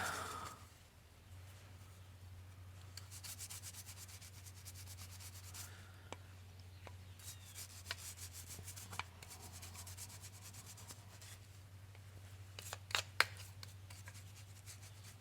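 Mink oil rubbed by hand onto the leather grip of a Bomber Helko axe: a faint, steady soft rubbing and scuffing over a low hum, with a few small knocks near the end and no talking.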